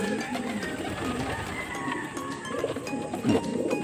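Soft cooing of racing pigeons mixed with low murmuring and faint background chatter, a busy, close-up coop ambience.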